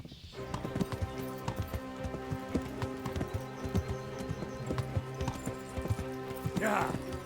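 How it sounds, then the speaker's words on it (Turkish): A horse galloping in the video game Kingdom Come: Deliverance, rapid rhythmic clip-clop hoofbeats close and steady throughout, with a brief whinny near the end and a voice talking over it. "Hans'ın atı da hızlı ha."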